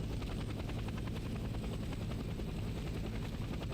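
A helicopter in the video game Hell Let Loose: Vietnam, heard from on board as a loud, constant rotor thump and engine drone that holds steady throughout.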